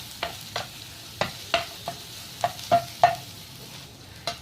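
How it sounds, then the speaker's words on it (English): Onions frying in a pan with ginger and green chilies, stirred with scraping strokes that come as about nine irregular sharp scrapes over a faint background sizzle, close and with no talk. "Next, we're going to add in our onion and give it a good fry."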